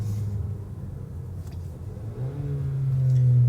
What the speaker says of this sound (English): It does rev match when you downshift